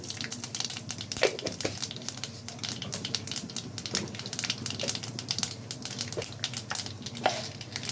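Mustard seeds, cumin and urad dal frying in hot oil give a close, steady sizzle scattered with sharp pops and crackles as the seeds burst, alone without talk.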